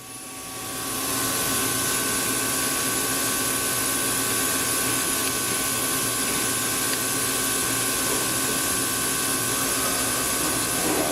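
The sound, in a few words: Tsugami S206 CNC Swiss lathe spindle spinning at 2,000 RPM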